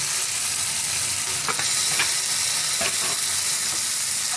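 Mustard paste and a little water hit onions frying until deep red in a pan, raising a steady loud sizzle with a few stirring scrapes, no voices.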